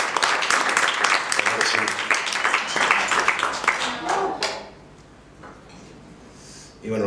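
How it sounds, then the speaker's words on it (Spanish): Audience applause in a vaulted hall at a hostel in Zaragoza, a loud, dense burst of clapping over the first four seconds that fades to a quiet room, with a short swell of noise at the very end. "Un aplauso para la gente de la bóveda"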